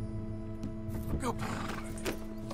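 In the Red Dead Redemption 2 game, a horse gives a short whinny amid clopping and shuffling, fairly close, over a steady low musical drone.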